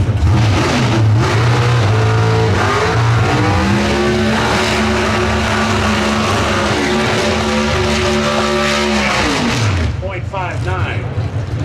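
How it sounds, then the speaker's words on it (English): NHRA Pro Stock drag cars at the 2022 Winternationals roar through a loud, sustained tire warm-up, engines revving hard for several seconds before the noise drops away, with no speech heard. "as Christian Quadra and Fernando Quadra warm up the tires"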